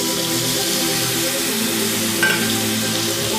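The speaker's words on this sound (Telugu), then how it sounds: "ఇప్పుడు టమాటా వేసేద్దాం." Tomatoes sizzle and fry in a hot pan for a broad beans curry, a steady, loud crackling hiss that continues evenly throughout without speech.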